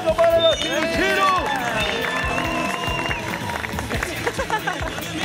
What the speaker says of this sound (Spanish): ¡Aplauso para los Chiruchiru!